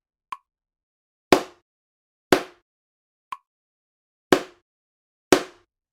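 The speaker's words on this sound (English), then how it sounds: "The first sound is the low clap." Low hand claps made with hands held in a cupped position, four sharp dull slaps at steady one-second spacing with two faint clicks between, close and alone.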